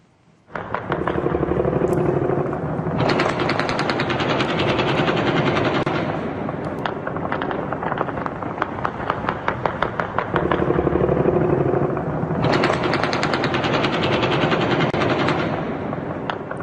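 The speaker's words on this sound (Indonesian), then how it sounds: "Warga melepaskan tembakan perayaan ke langit." Celebratory automatic gunfire fired into the night sky over Beirut, Lebanon, marking the start of a ceasefire: loud, sustained rapid-fire bursts with short pauses, rattling almost continuously throughout with no talk.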